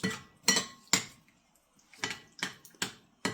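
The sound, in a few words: stirring brown sugar into chili in a pot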